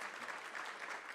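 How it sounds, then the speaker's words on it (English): A brief, soft burst of audience clapping at an academic seminar on state capture, steady and slightly distant for about a second. "May you give them the round of applause?"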